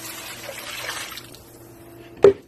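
Coconut milk poured into a pot of softened onions for a Jamaican cod fish and cornmeal dish: a soft liquid pour that tapers off, then a single sharp knock near the end.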